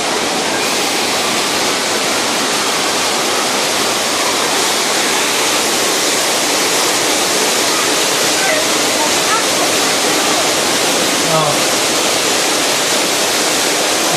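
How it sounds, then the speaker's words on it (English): Loud, continuous gushing water roars without a break, a dense rushing spray like a burst water main pouring out close by, as a theme park tour special effect. "I think a water main is burst."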